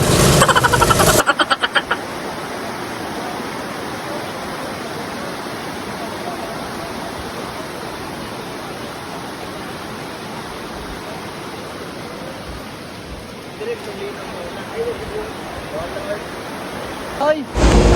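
Water rushes steadily and loudly in a broad, even wash at a stream, with people's voices and splashing breaking in near the start and end.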